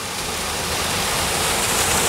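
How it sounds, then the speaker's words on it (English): A small waterfall on a stream along the Florida Trail gives a steady, close, full rush of falling water, loud and unbroken, with no voices over it. "We got us a little waterfall at 7 a.m."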